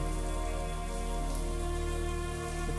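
Steady running water hisses continuously, like a shower spraying nearby, with a low constant hum underneath and no voices.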